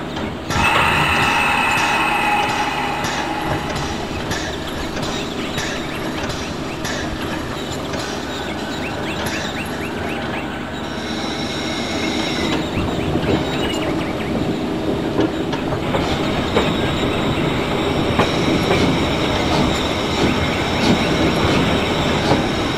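A train on the Nordhausen narrow-gauge line pulls away, its wheels rumbling and clacking steadily with squealing metal and a continuous mechanical roar throughout.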